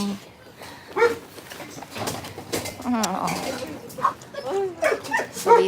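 Rescued dogs at a shelter, scattered barks and whimpers mixed with higher yelps at moderate distance, arriving in short irregular bursts, with people talking in the background.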